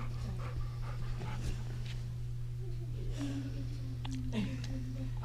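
A dog panting steadily and softly close by, with a faint whimper partway through, under people chatting and a constant low hum.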